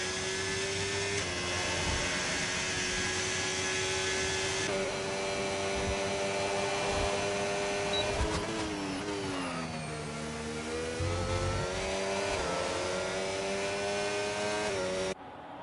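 Formula 1 race cars in the F1 video game racing at the Saudi track, a continuous high-pitched engine whine with engine pitch drops under braking and revs climbing again on acceleration, loud and sustained throughout.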